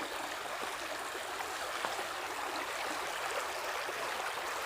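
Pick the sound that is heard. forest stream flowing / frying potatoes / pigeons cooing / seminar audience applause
forest stream flowing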